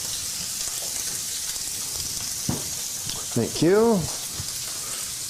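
Sous vide moose meat sears in a ripping hot pan, a constant bright hiss and crackle filling the clip, with brief speech heard over the sizzle near the end.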